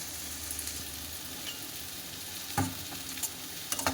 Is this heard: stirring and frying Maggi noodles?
yes